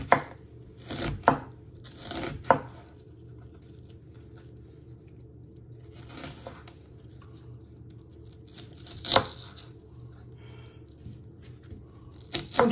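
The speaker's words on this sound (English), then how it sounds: "Then turn it around and you just want to slice it into little pieces." A knife chops an onion into small pieces on a board: a handful of crisp, separate chops spaced irregularly over a quiet background.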